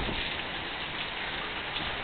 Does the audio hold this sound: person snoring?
no